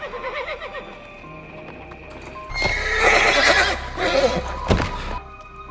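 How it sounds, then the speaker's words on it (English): A white horse goes wild in a stable in a Pompeii film scene, neighing and whinnying loudly and repeatedly while hooves clatter and thump on the ground, with music in the background. "That night, Cassia's favorite white horse goes wild."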